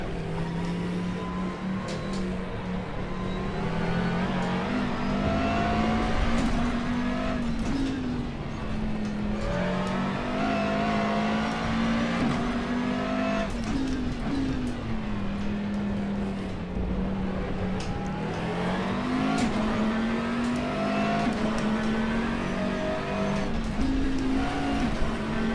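Chevrolet Daytona Prototype race car engine in R3E at Sonoma, a loud continuous V8 drone rising and falling through gear changes across the whole stretch, with no talk over it.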